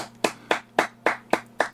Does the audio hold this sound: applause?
yes